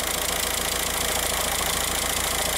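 A 2006 Volkswagen TDI diesel engine with a low-boost fault idles close by, producing a steady, uniform clatter and rumble that never changes and carries no speech.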